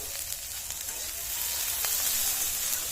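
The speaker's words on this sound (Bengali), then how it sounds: "এইভাবে বারবার ঢাকা দিয়ে এবং ঢাকা খুলে আমরা কিন্তু এগুলি খুব ভালো করে ভেজে নেব" Vegetables for veg fried rice frying in a pan, heard as a continuous close hissing sizzle that swells slightly louder midway, with faint stirring ticks and no voices.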